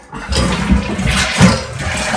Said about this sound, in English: Let me get a light on this and we'll flush it.